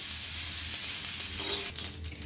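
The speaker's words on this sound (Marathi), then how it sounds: "आता याच तव्यावर आपण खोबरं भाजून घ्यायचं आहे" Grated coconut dry-roasts on a hot tawa without oil, making a steady close hiss with faint scraping that drops slightly near the end, with no talking.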